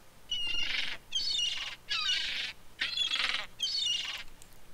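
A bird in a video game gives five loud, harsh squawks in a steady rhythm, each about half a second long and separated by short pauses, close and with no talk over them.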